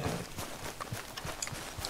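Horse hooves clip-clopping in Red Dead Redemption 2, a faint, steady walking rhythm of hoof beats on the ground, with soft background ambience.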